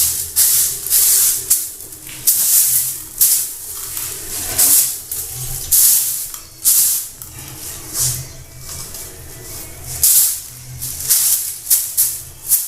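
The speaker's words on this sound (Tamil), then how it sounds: "மேலே வந்து லேசாக தண்ணி தெளிச்சுக்க முடியும்." Water is sprinkled by hand onto freshly laid brickwork in a run of short, hissing splashes that come in quick repeated bursts, fairly close and loud, with no talk.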